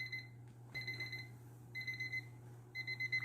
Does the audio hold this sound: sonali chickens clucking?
no